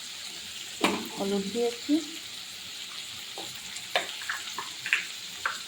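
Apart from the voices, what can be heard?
dried fish, potato and tomato lightly frying in a pan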